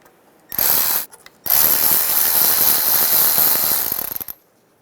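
A ratchet spins off the oil pan bolts on a 2007-2012 Nissan Altima, giving two bursts of loud, close, rapid clicking, a short one and then a longer run of about three seconds.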